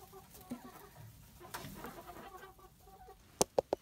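A few soft clucks and faint rustling, then three sharp, brief chicken calls close together near the end.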